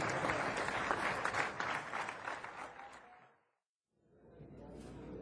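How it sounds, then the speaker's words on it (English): Audience applause at a songwriters' festival in the round, a full crowd clapping steadily, then fading into a brief silence before room sound returns at low level. "Thank you for that smattering of applause, growing to a loud crescendo."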